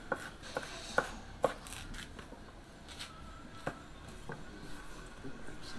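A knife chops food on a cutting board while baked beans are prepared for a Dutch oven, with a few sharp, spaced knocks early on, then quieter, irregular cutting taps over a low background.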